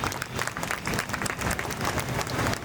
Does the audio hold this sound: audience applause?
yes